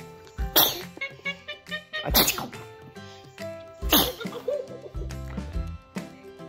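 A baby sneezes three times in quick succession, sharp close bursts spaced about a second and a half apart, followed by soft breathy sounds and small murmurs.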